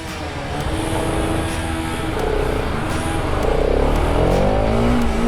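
A Bajaj Pulsar RS200 motorcycle engine, freshly given an ECU update, revs steadily and loudly up close, its note holding and rising slightly throughout without pause.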